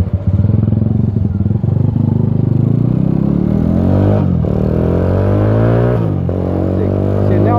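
Custom Pulsar flat track motorcycle engine idling and revving up close, a loud steady throb with rising and falling pitch sweeps, clattering mechanical noise throughout.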